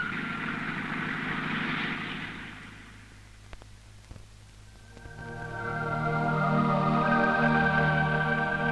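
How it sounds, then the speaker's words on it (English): A Sea Harrier vertical-landing jet's loud roar fades to a lull with a few clanks, then swells again into a whining, rising engine drone, close and steady. "Unlike a normal aircraft, the Seahawk needs no runway to land. It can land straight down like a helicopter."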